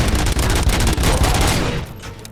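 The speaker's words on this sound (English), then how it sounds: "Gunshots? What's going on?" Rapid gunfire in the video game Robocop: Rogue City, a dense continuous burst of shots that fills the whole stretch with no pauses, then tails off slightly near the end.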